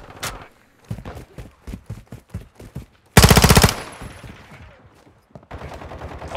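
A sentry gun opens fire during a Domination match on the Al Bagra Fortress map in Call of Duty Modern Warfare: a loud, sustained burst of rapid automatic gunfire amid scattered shots and battle noise.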